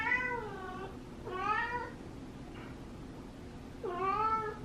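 A pet cat meows three times in drawn-out, wavering calls with pauses between, fairly close in a quiet room over a low background hum, with no talking.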